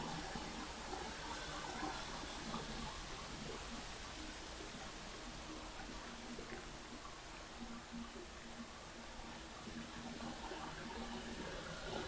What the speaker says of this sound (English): Look at all the beautiful waterfalls.